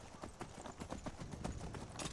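Horse hooves clip-clop in a steady walking rhythm in Skyrim, faint and even, a continuous run of hoofbeats with no voices over them.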